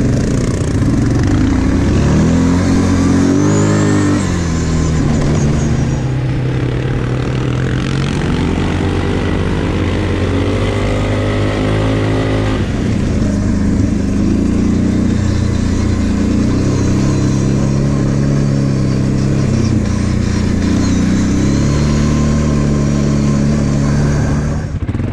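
A Kymco Maxxer quad bike engine revving hard while driving through a sand pit, a loud continuous drone that rises and falls in pitch with throttle changes, close to the listener throughout.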